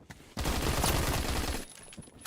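A pump-action shotgun loaded with birdshot in Phantom Forces lets off a loud, sustained crackling burst of fire lasting over a second, followed by quieter scattered clicks and shots.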